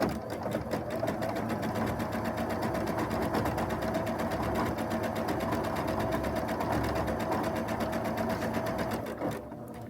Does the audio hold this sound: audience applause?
no